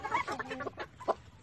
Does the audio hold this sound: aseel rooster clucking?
yes